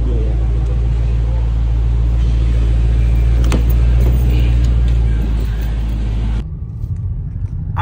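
A 2023 Dodge Scat Pack fitted with Dynomax Race Bullet exhaust rumbles loud and close with a rev that swells and then drops off sharply, leaving a quieter idle at the end.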